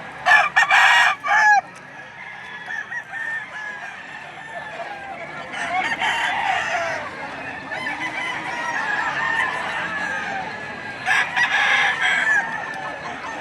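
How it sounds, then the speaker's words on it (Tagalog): Roosters crow at a poultry market in Padre Garcia, Batangas, in three separate loud calls spaced several seconds apart. Fainter crowing and clucking from other birds fill the gaps between them. "Napakagandang manok."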